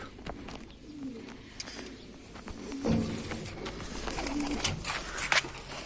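An Adana pigeon coos in low, throaty phrases, repeated several times at close range, with a few faint chirps and rustles around it.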